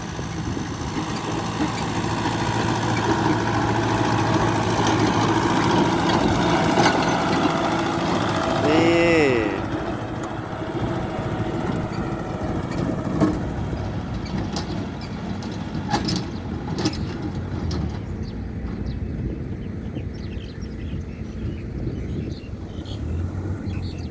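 A tractor engine drones steadily throughout as it is driven, a continuous mid-to-low mechanical hum with fluctuating intensity and some faint higher whines, no speech over it.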